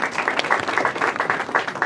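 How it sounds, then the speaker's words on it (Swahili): Applause at a governor's swearing-in ceremony, a dense crowd clapping steadily and fairly close for the whole stretch, with no voices over it. "Mpigeni makofi."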